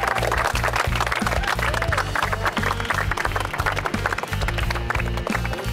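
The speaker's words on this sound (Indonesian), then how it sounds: "Tepuk tangan dulu dong" A group of people applauds after a winner receives an award, a dense, continuous patter of hand claps at close range with a low rumbling thump running underneath throughout.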